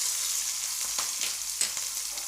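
Chopped green chillies sizzle and crackle in hot oil, with a soft scrape of stirring now and then.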